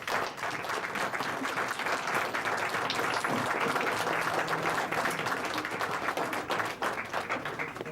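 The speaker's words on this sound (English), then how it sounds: "there's another group that deserves our round of applause, and it's their parents" Steady applause from a crowd at a school board meeting as students' parents are recognized, dense clapping sustained at even volume across the whole stretch.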